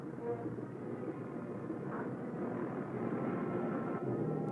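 On a carrier deck, bomber engines rumble low and throaty in an old recording. The rumble swells slightly toward the end and stays fairly faint, with a muffled, noisy quality.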